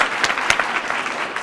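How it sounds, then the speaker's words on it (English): Brief burst of crowd applause at a human rights day gathering, steady clapping from an audience with a couple of sharper claps standing out, lasting only a moment. "let's give him a round of applause for being here"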